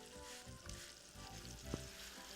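Fresh pasta goes into a pot of boiling salted water and gets stirred, a bubbling, sizzling wash with soft stirring scrapes and a brief sharp knock near the end, no talking.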